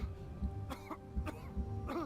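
A character in the video game Expedition 33 coughs several times, short raspy throat-clearing coughs spaced about half a second apart over low, steady background game music.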